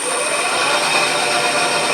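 A drill bit turns in a metal lathe slowed to 700 rpm, giving a steady, close machine whir with a broad hissing edge that holds unchanged for the whole stretch, with no talking.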